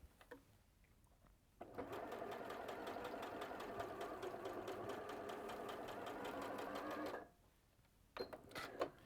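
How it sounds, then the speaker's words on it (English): A sewing machine stitching along a line drawn on fabric runs in one steady, rapid whir of needle strokes for about five seconds, then stops. Faint handling noises follow. "So now I'm just going to sew across the line that I have drawn."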